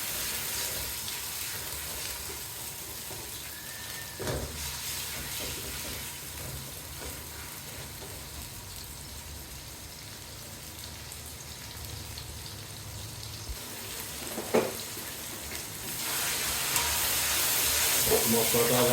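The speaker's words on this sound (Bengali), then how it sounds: "মশলাটা আবার নেড়ে নেব ভালোভাবে।" Spices frying in a pan for a beef tripe dish, stirred now and then: a steady crackling sizzle with occasional scraping knocks, loudest near the end.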